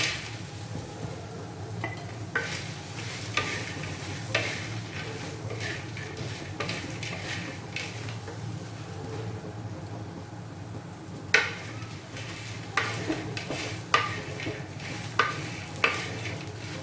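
Vegetables being stir-fried in a pan for a crispy veg dish, with a steady low sizzle and repeated scraping and clacking of a utensil against the pan, growing sharper toward the end.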